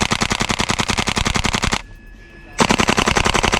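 A WE MP5-A3 gas blowback airsoft rifle fed from an HPA-tapped drum magazine fires full auto, a very fast, loud, close string of sharp clacks, broken by one short pause before the next burst.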